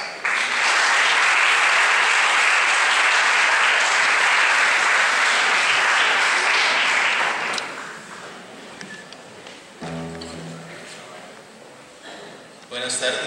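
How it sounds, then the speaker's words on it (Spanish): Loud, sustained applause from an audience welcoming a singer at a cultural event, filling the room for about seven seconds before fading into scattered claps, with a voice beginning to speak near the end. "Recibámosle con un caluroso aplauso."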